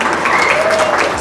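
Short, loud burst of crowd applause at a festive birthday celebration, continuous clapping from a close audience for the whole moment.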